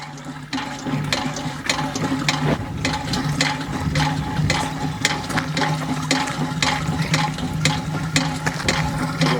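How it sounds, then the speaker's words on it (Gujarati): Water rushing and gushing steadily and loudly for several seconds, with a churning, continuous wash and no talking. "આવ્યું પાણી."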